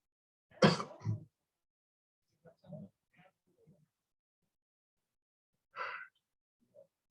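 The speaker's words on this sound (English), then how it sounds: "I didn't mean to yawn in your face." A man lets out a yawn at a postgame press conference, a broad breathy burst near the start followed by quieter murmurs, another short exhalation later, in a quiet room.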